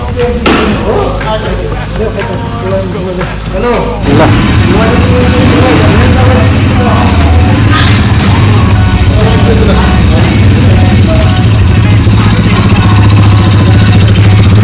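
A new motorcycle's engine idles and rumbles steadily up close, getting louder partway through, while people talk over it.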